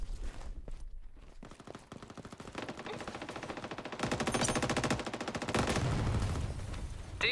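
Rapid bursts of automatic gunfire from the video game Veiled Experts, close and loud, rattling in dense repeated volleys that grow heavier toward the end.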